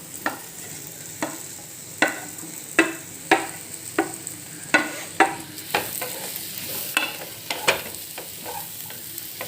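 Chilli chapathi pieces being stir-fried with masala in a pan, a spatula scraping and tossing in a steady run of sharp clanks over a low, continuous sizzle, close up with no voices.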